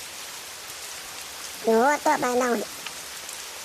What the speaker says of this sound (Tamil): மழையை பார்த்தா எனக்கு சூப்பராக இருக்கும்டி